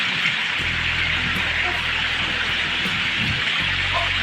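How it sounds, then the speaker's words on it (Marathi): Heavy monsoon rain pours down in a Konkan village in a dense, steady hiss, close and continuous, with a low rumbling undertone throughout. "एकदम मजबूत पाऊस पडतोय"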